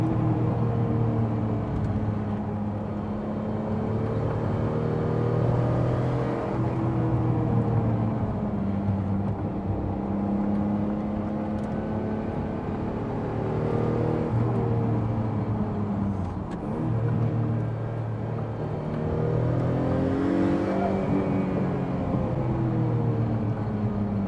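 Noble M12 GTO3R sports car on the move, its engine droning steadily from inside the cabin with rising and falling tonal sweeps as revs change, continuous and fairly loud with no talking.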